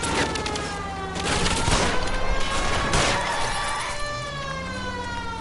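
Bursts of gunfire ring out during a car chase in L.A. Noire, laid over a steady wail of police sirens and a straining car engine, loud and continuous throughout.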